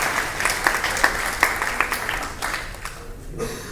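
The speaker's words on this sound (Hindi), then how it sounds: "उनके लिए जोरदार ताली आप सबकी तरफ से देनी चाहिए।" Audience applause at a Hindi Diwas award ceremony, a short burst of scattered hand clapping with distinct individual claps that thin out and fade toward the end.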